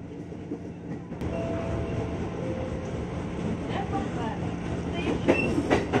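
A KRL Commuter Line electric train pulls away from Depok station, a steady rolling rumble with a faint tonal whine rising. Brief sharper clicks and rattles come near the end, with no talking.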